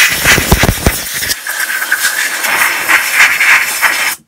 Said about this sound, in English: Now I'm just going to blow it all off, so I'll get the compressor sorted.